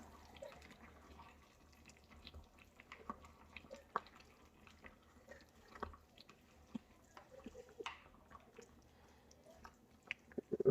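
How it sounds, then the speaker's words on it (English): Potato porridge with diced broccoli and carrots is stirred in a pot, giving soft, wet squelches and light scrapes at an uneven pace, quiet and close. "So we just give it a good stir."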